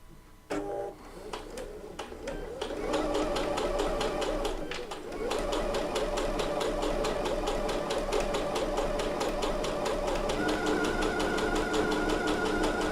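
A Bernette B79 sewing machine runs a line of 5 mm stitches, a fast, even mechanical whir after a few short starts, steady and close, with a voice talking briefly at the start.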